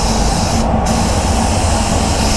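Solvent basecoat hisses loudly from a spray gun onto a Ford Focus, a close continuous airy spray with one brief gap in the trigger, no talking.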